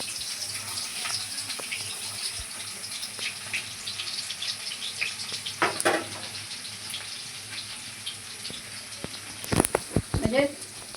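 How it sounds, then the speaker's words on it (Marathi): Garlic and cumin seeds roasting in a pan for toor dal and spinach khichdi, a steady soft sizzle with faint clinks of a spoon and brief louder scraping near the end. "बाकी लसूणला छानसं भाजून घेऊया."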